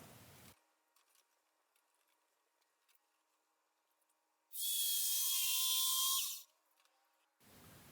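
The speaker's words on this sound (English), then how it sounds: "Now taking a jigsaw and cutting along that traced line." A jigsaw cutting wood along a traced line for a corner desk: one loud, steady buzzing cut of about two seconds, close by, after a quiet stretch.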